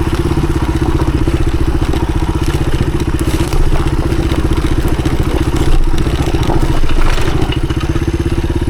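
A 1983 Honda XR200R dirt bike climbs a steep enduro hill, its engine thumping loud and steady throughout, with clattering and knocks from the rough ground.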